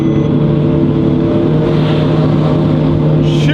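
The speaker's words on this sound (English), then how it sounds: "That's a much different experience with the exhaust is on." Lamborghini Revuelto with its exhaust open, a loud, steady, droning engine roar heard from inside the car, holding an even pitch with a faint rising swell near the end.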